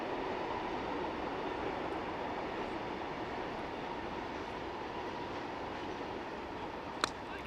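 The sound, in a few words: local train passing in the background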